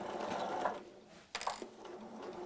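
A sewing machine runs fast, stitching forwards and back around a fabric sack at a 1.5 seam allowance. A continuous mechanical whirr dips briefly, then picks up again with a sharp restart, close and steady.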